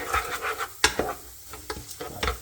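Butter melting in a pan for a chicken curry while a utensil stirs it: quick scraping strokes, about six in a couple of seconds, over a soft sizzle, close and with no talking.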